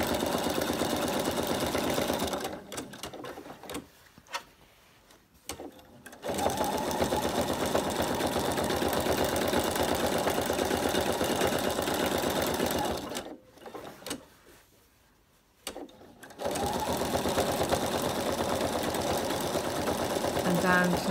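A sewing machine stitches free-machine embroidery applique around a campervan shape in loud, fast, steady runs that stop twice for turning the fabric, with a voice talking during the pauses.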